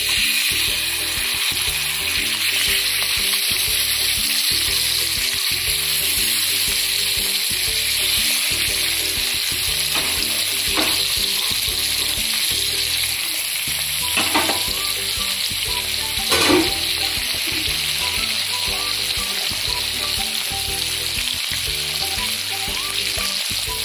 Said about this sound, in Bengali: তেল গরম হয়ে গেছে, এবার মাছগুলো আমি ভাজার জন্য দিচ্ছি।